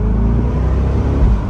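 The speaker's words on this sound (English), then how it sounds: "another cheap little car is not going to sound like this Corvette" A C8 Corvette's engine rumbles deep and loud from close by during a top-off cruise on a sunny day, with a brief swell near the end and no voices.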